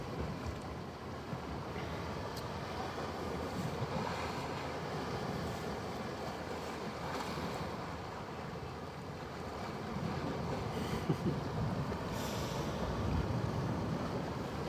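Ocean waves washing against rocks on the Kona coast of Hawaii, a continuous distant roar of surf blended with wind noise, steady and fairly faint throughout.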